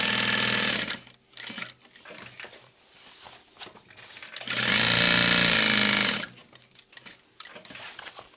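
A sewing machine stitches a bag's zipper pocket shut, running in bursts with a loud, sustained whirring run in the middle and shorter buzzing stretches before and after, with quiet handling noises in the pauses.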